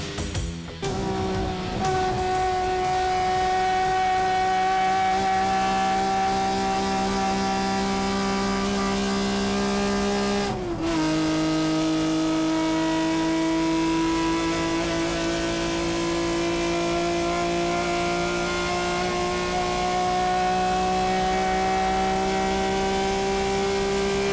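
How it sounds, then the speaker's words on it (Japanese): Nissan Skyline Hakosuka GT-R race car at full throttle on the Sportsland SUGO circuit, a loud close-up engine note that rises steadily through the gears with one sharp shift break, no speech. "スポーツランドスグを走るハコスカレーシングのコクピットに収まった黒沢モタールは完全に30年前にタイムスリップしていた"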